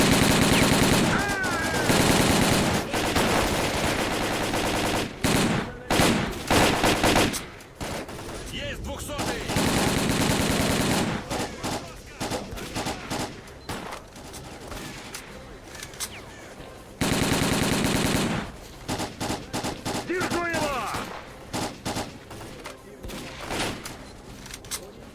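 Bursts of automatic gunfire from a Stalker: Call of Pripyat firefight, with rapid rattling volleys that stop and restart in clusters across the scene, mixed with game sounds and occasional talking.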